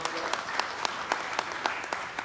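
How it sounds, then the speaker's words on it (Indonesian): Crowd applause at a political declaration event, a dense, continuous wash of many hands clapping with periodic sharper claps standing out, heard from some distance and fairly faint. "Tepuk tangan yang meriah."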